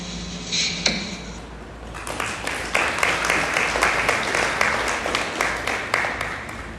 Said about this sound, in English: So again, a round of applause for everyone who shared their words of inspiration.